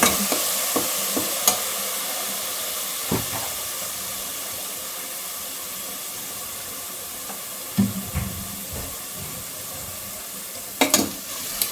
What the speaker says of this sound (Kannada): ಎಣ್ಣೆಲಿ ಎಷ್ಟು ಬೇಗ ಆ ಮಸಾಲೆ ಫ್ರೈ ಆಗ್ತದೆ.